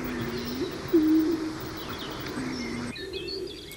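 A Trocaz pigeon (paloma turqué) coos in the Garajonay forest on La Gomera. Low, drawn-out coos repeat at moderate distance over soft forest ambience, with fainter bird calls in the background.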